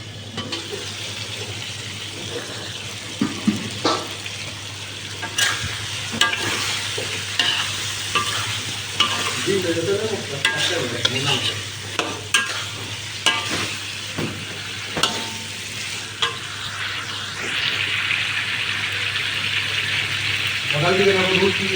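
Food frying in a pan for a home-cooked curry, stirred repeatedly with a utensil, giving irregular clatters and scrapes over a steady sizzle and a low hum, with occasional speech heard in the background.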